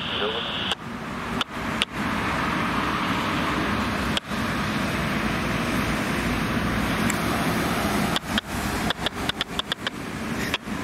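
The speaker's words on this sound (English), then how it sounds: "Huge traffic jam. All them trucks going into the port." Steady traffic of trucks jammed heading into a port rumbles at a distance, a continuous low drone broken by several sharp bumps and clatters.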